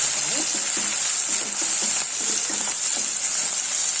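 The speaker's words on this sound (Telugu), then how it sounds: "ఆనియన్స్ ఆయిల్లో ఆనియన్స్ వేగాయి." Chopped onions fry in hot oil for kadai chicken, a dense, steady bright sizzle that holds throughout, with faint speech-like murmurs underneath.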